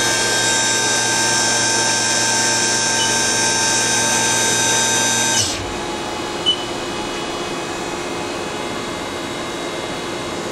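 A Haas DT-1 drill and tapping center spindle whines at speed, a steady high tonal hum with layered harmonics that cuts off abruptly partway through, leaving quieter machine-shop background hum and a brief click.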